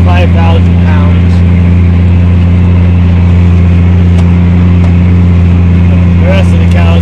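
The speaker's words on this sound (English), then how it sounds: "I'm glad I've got overkill tractor on this wagon load right now" A tractor engine drones steadily and loudly while pulling a snowy hay wagon loaded with nearly 5,000 pounds of feed, a constant low rumble with strong harmonics, close and unbroken, with faint bits of voice over it.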